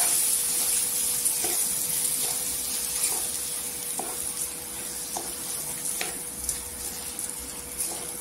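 Soaked rice sautés in oil in a pan, giving a continuous soft sizzle and hiss with a string of light, evenly spaced stirring taps, close up and without speech.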